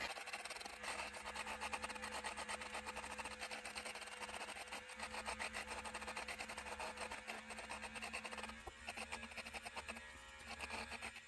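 A body hair trimmer buzzes steadily while cutting through arm hair, a close, continuous electric whir with a rough rasping texture that stays loud and even throughout, with no talk.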